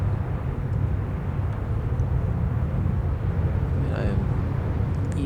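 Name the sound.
Reclaimer ship taking off, from video game Star Citizen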